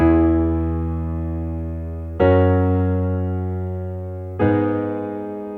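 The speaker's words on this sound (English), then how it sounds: "Okay, so pretty standard pop progression." Three sustained synthesizer chords, each struck and left to ring and slowly fade, moving through a simple progression with no talking.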